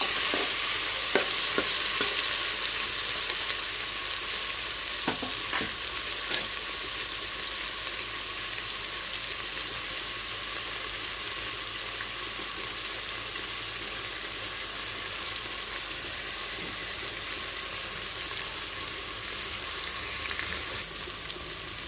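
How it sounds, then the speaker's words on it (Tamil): Tomato and green chillies sauté with onions in a pan for chicken biryani, a long, even hiss of frying heard close and steady, with a few scrapes of stirring early on and no talking. "நான் ஒரு பெரிய தக்காளியை சேர்த்துருக்கேன். 2 பச்சை மிளகாவும் சேர்த்துக்கலாம். இது கொஞ்சம் நல்லா வதங்கட்டும்."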